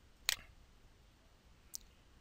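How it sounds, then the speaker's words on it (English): Two faint, isolated key clicks from a computer keyboard, one near the start and one about a second and a half later, on a Windows 7 PC in a quiet room. "Let's make sure I type that in right."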